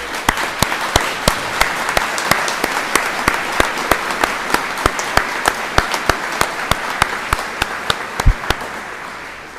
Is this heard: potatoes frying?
no